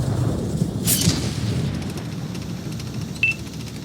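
A missile fired from an M3A2 Bradley in World of Tanks on the Kaunas map: a single muffled boom with a sharp high burst early on, over a steady low rumble and a brief faint whistle near the end.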